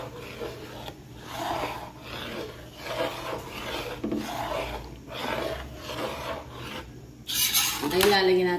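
Sinantolan binalawan ingredients being mixed by hand, giving repeated rasping, rubbing strokes in a steady rhythm at close range, ending in a brief louder scrape.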